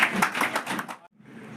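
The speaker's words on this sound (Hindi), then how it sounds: "Doctor HS. रावत जी की, उनके लिए तालियां बजा के आप स्वागत कीजिए" An audience claps to welcome a guest onto the stage at a spiritual and cultural event, with a brief burst of close clapping that stops abruptly after about a second and leaves quiet room noise.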